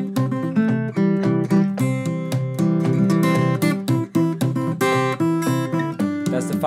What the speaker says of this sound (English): If I would play that song as a solo fingerstyle arrangement using only the 1-4-5 chord